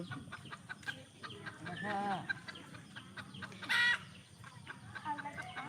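A chicken clucks close by in a cold evening gathering around a warm fire, with two or three short, throaty calls rising over soft background voices and small clatters.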